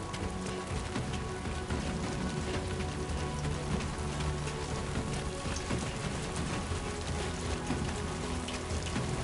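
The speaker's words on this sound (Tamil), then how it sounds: "ஆஹா, மழை வருது, தப்பிக்கணுமே." Steady, dense rain in the Death Stranding 2 video game, pouring evenly on surfaces as a constant near hiss with patter and low rumbling underneath, unbroken throughout.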